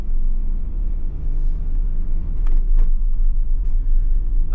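A camper van drives along a rural Scottish road with steady engine rumble and road noise that swell slightly partway through, plus a few faint clicks and rattles from inside the cab.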